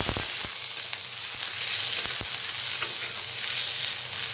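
Chopped onion frying in a pan for an egg and cauliflower curry gives a steady, close sizzle with a few sharp stirring clicks and scrapes, no voices.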